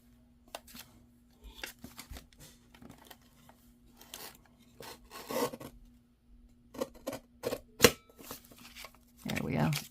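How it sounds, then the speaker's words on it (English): Scissors cut along the edge of paper for a junk journal in short, close snips and rustling slides, broken by pauses, with a faint steady hum behind. "let's just cut it right along that edge"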